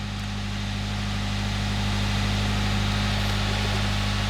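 A 2018 Subaru WRX with a vacuum leak and air-fuel trouble idles steadily, a low constant engine hum with broadband noise, heard from close inside the car and alone.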